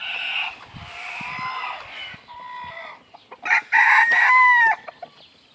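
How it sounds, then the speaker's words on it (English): Several bantam roosters, separated from the hens, crow in high, strained calls with scattered clucks between them, close by, the loudest crow coming near the end. "Got the bantam roosters split off from the hens."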